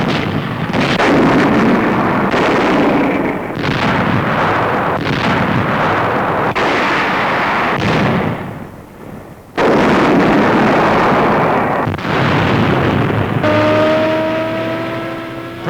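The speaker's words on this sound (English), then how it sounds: "Allied tanks and guns take up the fight" Allied tanks and guns fire artillery during the wartime push toward Tunis and Bizerte, producing loud, repeated heavy blasts and rumbling booms that follow one after another with no voices.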